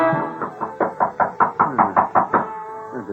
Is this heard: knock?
yes